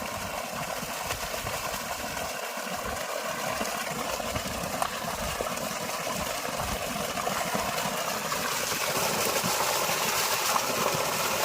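A water pump motor runs steadily at home while fresh water is drawn, a constant droning hum with a broad whirring hiss, unchanging and fairly loud for the whole stretch.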